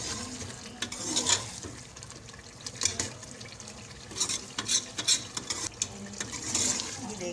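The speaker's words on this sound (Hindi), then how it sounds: "ये देखिए, हमारी लौकी भी इसके अंदर से बहुत अच्छे से भुन रही है।" Bottle gourd sautéing in masala for lauki gosht, with soft continuous frying under repeated scraping and stirring taps of a spoon against the pot, close and moderately quiet.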